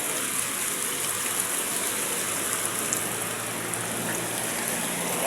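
Steady heavy rain pours down continuously, a dense hiss of drops drumming on surfaces with no pauses and no voices.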